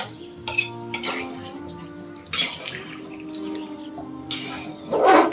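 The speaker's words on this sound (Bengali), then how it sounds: "এখন ভালো করে নেড়ে চেড়ে দিচ্ছি" A utensil scrapes and clinks against a pot while duck curry with coconut paste is stirred, irregular metallic knocks and scrapes close by over a background hum.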